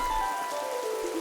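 Steady rain patters over a forest in an animated children's story, a soft continuous hiss under a sustained musical tone.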